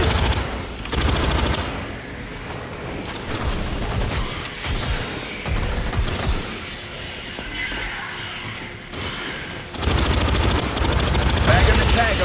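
Heavy automatic fire rips through an Aliens Fireteam Elite battle against Xenos, dense sustained rattling bursts with louder intense stretches at the start and end, under game effects and shouted voices.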